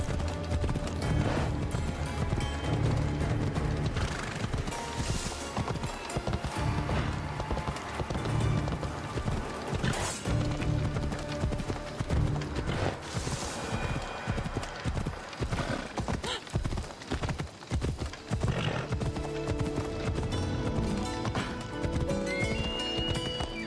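In the video game Assassin's Creed Odyssey, a horse walks slowly with a steady, rhythmic clip-clop of hooves throughout, and an occasional neigh or whinny breaks in over the close, continuous footfalls.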